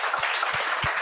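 Steady audience applause fills the moment on a French-language comedy podcast, a dense wash of many hands with a few low thumps beneath it.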